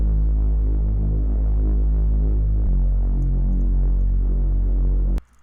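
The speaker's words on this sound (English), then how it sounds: "Yeah, so it's quite a nice fat Reese." A thick, fat Reese bass patch built in the Serum synth drones loud and continuous, with a slow throbbing detuned phasing. It stops abruptly at the end and nothing else is heard.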